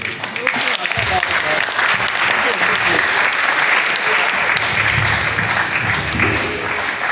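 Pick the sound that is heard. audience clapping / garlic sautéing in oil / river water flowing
audience clapping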